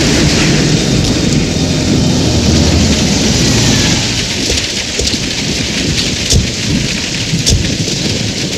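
Heavy rain with thunder pours down in a loud, dense, continuous hiss, with deep rumbling underneath and scattered sharp drops striking surfaces nearby. No one speaks.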